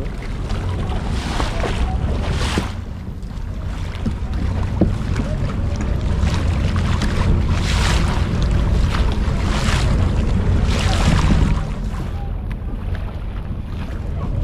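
A motorized tour boat pushes across open sea near islands, giving a steady low engine rumble mixed with rushing water and buffeting wind on the microphone, continuous and close throughout.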